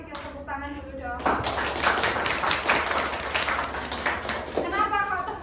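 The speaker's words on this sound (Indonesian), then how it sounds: "Tepuk tangan dulu dong." An audience of teachers clapping, a dense burst of applause rising sharply after a voice and fading as she speaks again.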